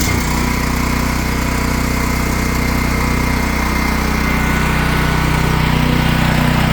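A Champion dual fuel generator engine runs steadily after a choked start, a loud continuous drone with constant low vibration and no talk over it.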